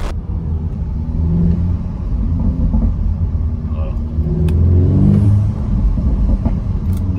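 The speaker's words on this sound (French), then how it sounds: "entre 2 et 3000 tours, vous avez ce petit retour d'échappement qui fait plaisir" A Volkswagen T-Roc R with an Akrapovic exhaust drives at 2000 to 3000 rpm, its engine giving off a deep, steady rumble with rising exhaust burble. Someone talks over the engine throughout.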